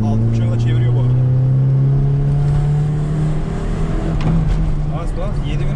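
A Fiat Uno engine revving hard as the car accelerates, a loud droning tone that climbs steadily in pitch from inside the cabin, with a voice speaking over it.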